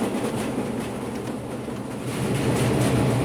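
Kapotaksha Express passenger train rumbling across a level crossing at a good speed, a steady loud roar of wheels and carriages with faint clatter, swelling slightly toward the end.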